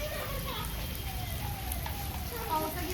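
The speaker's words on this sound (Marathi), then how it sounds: "देख देख आमच्याकडे पाऊस" Heavy rain falls steadily, a dense continuous hiss and patter filling the background while voices talk over it.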